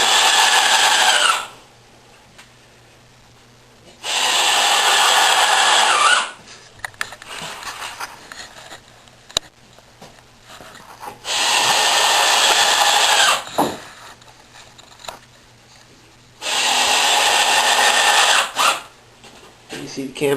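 A power drill runs on an outfeed table build in three sustained bursts, each a few seconds long, loud and close, separated by quieter gaps with light handling noise.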